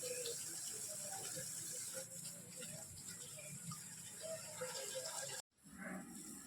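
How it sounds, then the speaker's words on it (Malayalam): A mother waters garden plants in the evening, a steady broadband hiss of spray from a hose pipe running throughout, with faint background sounds, then a brief dropout near the end before the flow resumes. "നമ്മുടെ മമ്മി ചെടി നനയ്ക്കുന്നുണ്ട്"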